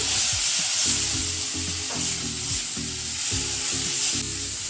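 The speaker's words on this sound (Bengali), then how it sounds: "মশলাটা একটু কষার মতো হয়েছে" Spices including chilli powder frying in a pan for dal, a steady loud sizzle with repeated rhythmic scraping stirs close by.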